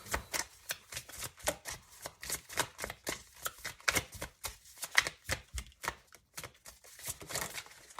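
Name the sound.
pulling and shuffling tarot cards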